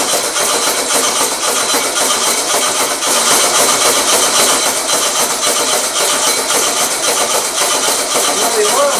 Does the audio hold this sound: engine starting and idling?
yes